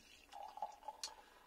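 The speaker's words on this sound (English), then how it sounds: "Can't see through this with brown bottles, so we'll have to pour it out, see what it looks like." Cider trickles and splashes as it is poured from a brown bottle into a glass, a faint, quiet stream with a few drips and small splashes.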